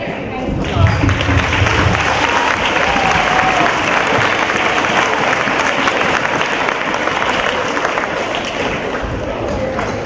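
Applause and cheering from a school assembly audience, with football players joining in, a steady broad wash of clapping and crowd noise that holds loud and continuous throughout, with some voices mixed in.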